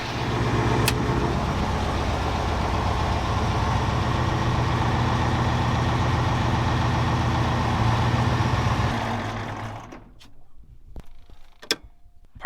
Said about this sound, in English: Let's see if the hydraulics work.